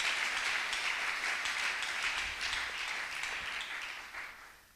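A church congregation applauds together, a dense steady clapping wash that starts loud and gradually tapers off over a few seconds.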